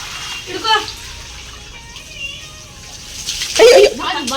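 Water splashing and running as a doorway is washed, with intermittent splashes under continuous talking and a voice nearby.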